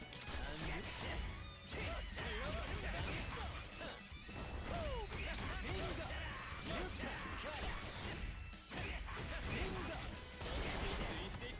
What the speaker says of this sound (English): I did a double grenade setup right there off of the first explosion